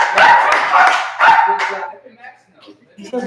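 A dog barks repeatedly and loudly in a series of sharp barks and yips, then quieter whimpering sounds, while a person talks over it during live commentary on a boxing match.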